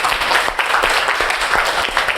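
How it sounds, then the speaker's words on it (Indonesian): Students in an Indonesian classroom applaud their group work, a steady dense patter of many hands clapping close by for a couple of seconds, with no voices over it. "Kita tepuk tangan sekali lagi."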